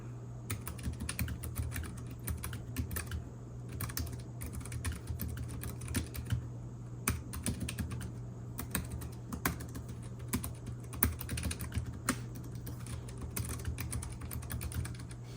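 Rapid, continuous typing on an ultra slim portable keyboard, a steady stream of light, close key clicks over a low background hum.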